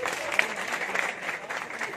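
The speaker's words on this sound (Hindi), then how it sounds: "एक बार ताली हो जाए अपने सबके लिए, ताली हो जाए।" Audience members clap together in a lively, sustained burst of applause that rises and falls a little in intensity. A few sharp individual claps stand out near the start, and the crowd sounds moderately close but somewhat subdued.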